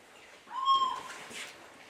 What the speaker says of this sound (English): now I will play you 3 types of little owl voice